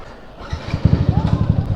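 A courier's motorcycle engine revving up and pulling away, a quick rhythmic throbbing pulse building up close by after a quiet start, with a voice speaking briefly over it.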